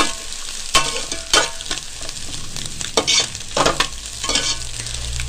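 Egg noodles and vegetables stir-fried in a street-stall style pan, with loud continuous sizzling broken by several sharp bursts of tossing and scraping at an irregular rhythm, close up and with no talk.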